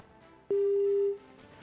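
A single steady electronic telephone line tone during a TV news phone link, sounding for about half a second against a quiet room background before cutting off.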